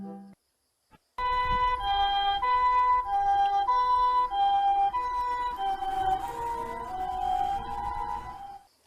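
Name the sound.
toy ambulance siren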